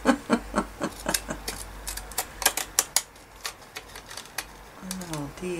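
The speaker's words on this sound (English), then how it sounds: "I'm going to turn my scissors around and cut this way" Scissors snip through a paper file folder in a run of sharp, close clicks and crunches, irregular in rhythm, with a brief voice at the end.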